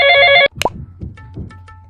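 Phone ringtone for an incoming call in a home tutoring comedy skit, a loud electronic tonal ring that cuts off abruptly after half a second, followed by quiet handling noises.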